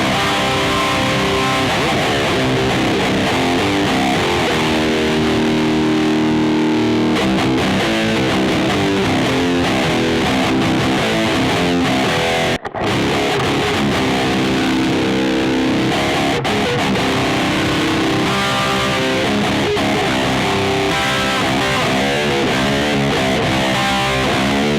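A seven-string electric guitar played through a Yamaha THR10ii amp preset with a 4x12 cabinet simulation and a touch of reverb, a dense and continuous run of distorted riffing that stays loud throughout, broken by one short gap near the middle.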